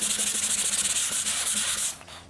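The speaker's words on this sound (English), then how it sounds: "if I sand across, the sander will kind of ride on the wood on either side" A sanding block rubs back and forth across Bondo filler on a wood repair, making a steady, close, raspy scraping in quick rhythmic strokes that stops abruptly near the end.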